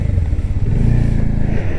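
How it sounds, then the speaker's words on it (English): Steady low engine drone from a Bajaj Dominar 400 motorcycle on the move, loud and close, with broadband wind rush layered over it throughout. "let's do it on the move, so that you can also hear the wind noise"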